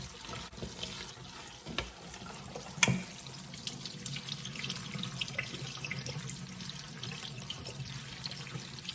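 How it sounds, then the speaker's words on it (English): Hominy rinsed under cold running tap water in a sink, a steady, close hiss of flowing water with light splashing throughout and no talking. "drain and wash your hominy in cold water"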